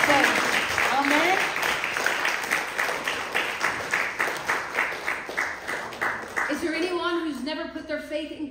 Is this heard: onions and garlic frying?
no